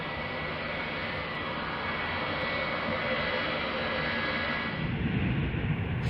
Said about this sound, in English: the pilots enter the cockpit and start the engines.